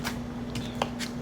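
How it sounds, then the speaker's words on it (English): A deck of cards being shuffled gives a few quick, soft riffling bursts over a steady low hum. "let me shuffle one more time."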